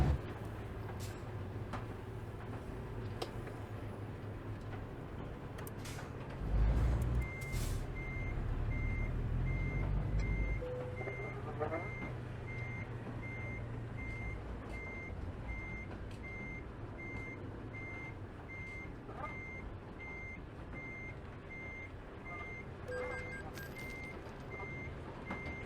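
A truck in Euro Truck Simulator 2 reverses a trailer, its steady repeating reversing beeps running for most of the stretch over a low diesel rumble, which briefly swells louder as the engine revs.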